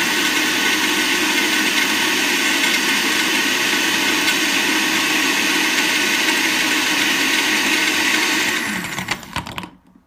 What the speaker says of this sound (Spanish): agregamos hielo a nuestra mezcla para poder batir